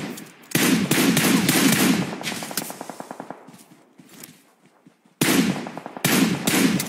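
Rapid automatic gunfire in a competitive online shooter match, with loud bursts of rattling shots that pause, thin out into scattered pops, then resume with two more sharp bursts.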